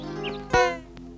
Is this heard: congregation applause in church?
no